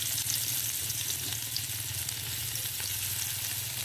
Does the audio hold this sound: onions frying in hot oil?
yes